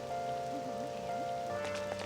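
Steady rain ambience from the video game Persona 5 Royal, a soft continuous patter under a gentle rain-version music track with a low melodic line, no talk.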